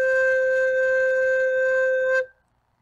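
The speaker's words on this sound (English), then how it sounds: "you will make the sound low C. It should sound like this." A recorder holds a single steady low C, a pure breathy tone sustained for about two seconds before cutting off into silence.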